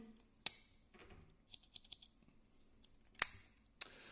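Scissors on a Victorinox Yeoman pocket knife being opened, with a few faint small metallic clicks and two sharp snaps, close and quiet, and soft speech in the background.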